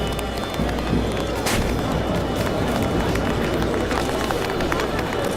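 A huge crowd cheering and rumbling in a Witcher 4 Unreal Engine 5.6 tech demo circus scene, a dense, steady roar of many voices with scattered sharp bursts, loud throughout.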